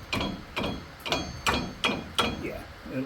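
Six evenly spaced metallic blows from a claw hammer striking a front brake rotor on a first-generation Chevrolet Colorado, each a sharp ringing clank about half a second apart, loud and close, with a faint trailing rattle.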